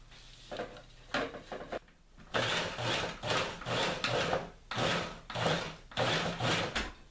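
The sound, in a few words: knife roughly chopping food on a cutting board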